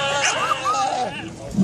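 A dog barks and yips in a busy outdoor street-entertainment setting, with strained, whining vocal tones mixed in, heard close under a general hubbub of voices.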